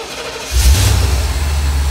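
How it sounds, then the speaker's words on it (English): A 1985 Corvette engine cold-starting: a brief starter whir, then the engine catches with a loud low rumble and settles into a steady idle close by. "You move it to the right, and then you start the engine."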